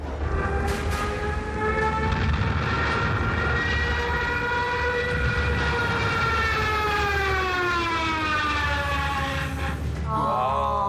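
A Stuka dive bomber's siren wails loudly and continuously with gliding, rising and falling tones that sustain for the whole stretch over a low rumble.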